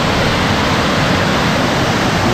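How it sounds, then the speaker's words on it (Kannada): Bandaji Falls, a waterfall, rushes down in a loud, unbroken roar of falling water heard up close, with no voices. "ಮೇಲಿಂದ ನೀರು ಹೆಂಗೆ ಬರ್ತಿದೆ ಅಂತ ನೋಡಿ, ಹಾಗೇ ನೋಡಿ ಎಂತ ಸ್ಪೀಡಲ್ಲಿ ಬರ್ತಿದೆ ಅಂತ."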